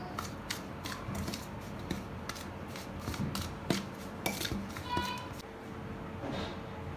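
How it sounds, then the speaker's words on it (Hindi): A spoon stirring powder and salt together in a bowl makes light scraping and clinking that recurs throughout, close and fairly quiet, with a voice speaking over it. "और इस सब को मिक्स कर देना है।"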